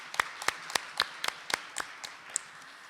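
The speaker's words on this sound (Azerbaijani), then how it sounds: "Gəlin sizi alqışlayaq." Sparse clapping from an audience at a women leaders' summit panel, about ten distinct claps in an uneven rhythm, fairly faint and roomy, without a full burst of applause.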